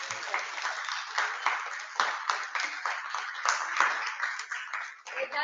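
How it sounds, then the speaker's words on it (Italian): Clapping on an Italian radio broadcast, a fairly close, band-limited burst of hands clapping in quick uneven rhythm, steady and moderately loud through the whole stretch. "Io faccio un applauso ad Antonino"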